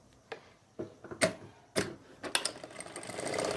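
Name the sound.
sewing machine stitching palazzo pants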